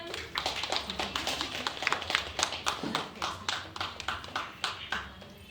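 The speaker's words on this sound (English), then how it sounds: "Okay, children, now clap for them." A group of children claps steadily in a classroom, a fairly even run of sharp hand claps repeating for several seconds at moderate loudness.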